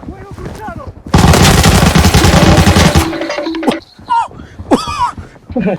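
A sustained burst of automatic gunfire in the video game Arena Breakout, loud and rapid for about two seconds, followed by scattered shots while someone talks excitedly.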